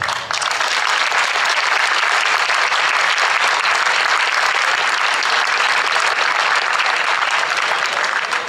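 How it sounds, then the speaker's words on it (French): A crowd at a sports awards ceremony applauds a group of full-contact champions, loud, dense, sustained clapping that fills the room without pause. "On les applaudit."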